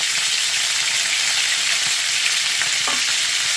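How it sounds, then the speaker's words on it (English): Pork carnitas frying hard in a pan, a loud continuous sizzle and spatter with a few small scrapes of stirring, no voices. "as that's splattering just a little too much for my liking."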